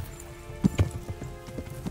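Horse hooves thud in a quick, uneven clip-clop as a newly bought horse moves in the medieval game Kingdom Come: Deliverance, a few close beats over low background ambience.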